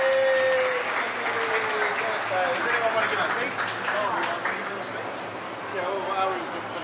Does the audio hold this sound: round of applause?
yes